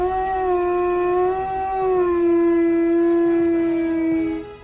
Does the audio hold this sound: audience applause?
no